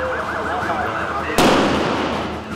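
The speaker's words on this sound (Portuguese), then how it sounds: "Solta a explosão aí." An ATM being blown up in Brazil bursts into a single loud, sudden blast after a wailing siren-like tone, and a rumbling, crackling tail follows.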